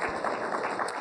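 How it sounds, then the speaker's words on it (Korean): A church congregation claps together, a brief steady wash of applause filling the room at even loudness. "박수 한번 합시다"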